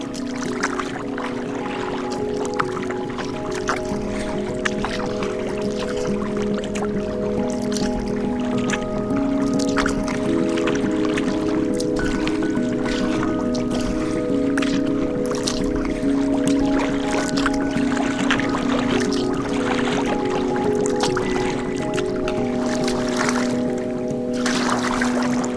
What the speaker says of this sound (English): Now they're starting to paddle kind of hard, so I'm going to catch up to my guys.